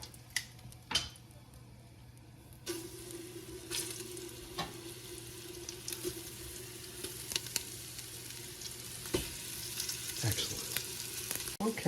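Lamb shanks sear in a hot pan with a continuous crackling sizzle, broken by sharp pops, clinks and shuffles as the pieces are moved about, close up and moderately quiet.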